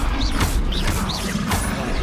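Repeated Confringo spell blasts go off in Hogwarts Legacy as loud, dense crashes. Three or four whooshing bursts of magic follow one another closely under a constant wash of noise, and no voices sound in the clip.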